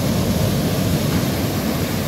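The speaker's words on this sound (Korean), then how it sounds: "와, 파도 크다." Large Pacific Ocean waves breaking near a surf spot on a high shoreline, heard as a steady, loud roar of surf with no break and no voices.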